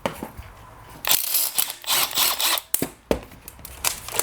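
An impact wrench rattles bolts off a blown-up John Deere lawn tractor engine during teardown, in several loud, close, harsh bursts separated by short pauses.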